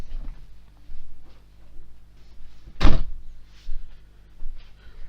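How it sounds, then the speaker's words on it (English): A door swings shut with a single loud thud in a quiet indoor room, standing out sharply against low background hum. "I'm just gonna close the door because the dog's barking."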